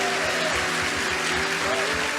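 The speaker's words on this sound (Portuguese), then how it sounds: "Você pode aplaudir ao Senhor mais uma vez" A church congregation claps continuously and steadily, applauding in praise during worship, dense and full, with tones from a sustained instrument underneath.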